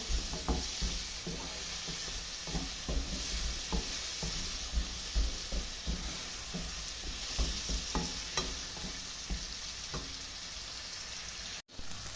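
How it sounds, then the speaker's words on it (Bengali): Vegetables lightly frying in a pan for vegetable dal, a soft steady sizzle punctuated by repeated spatula knocks and scrapes at an uneven rhythm, fairly close and moderately quiet. "দেখতে পাচ্ছেন সবজিটা হালকা একটু ভাজা হয়ে আসছে।"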